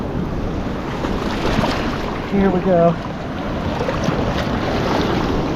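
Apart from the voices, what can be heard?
ocean waves washing in on beach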